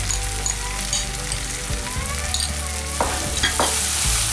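Ginger-garlic masala frying in oil for a Kottayam-style fish curry, a dense continuous sizzle with stirring scrapes and a couple of sharp spatula knocks near the end, close and steady.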